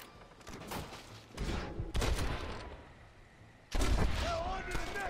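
Bursts of gunfire from Red Dead Redemption on Nintendo Switch crack out in several sharp volleys separated by quieter gaps, close and loud, with a shouting voice mixed in among the shots.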